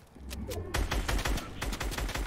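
Rapid bursts of video game gunfire crackle in dense volleys, loud and close, with brief gaps between barrages, on a budget gaming setup.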